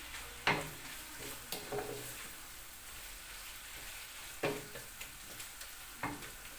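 Spinach cooks in a pan with carrot, potato and minced meat under a faint, steady sizzle, while a spoon scrapes and clanks against the pan in several sharp stirring knocks.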